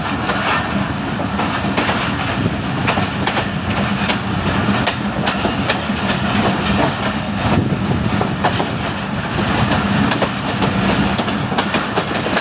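A train hauled by locomotive GU 49045 rolls into Gojra station, with steady loud rumbling and repeated clickety-clack of wagons over rail joints throughout, with no talking.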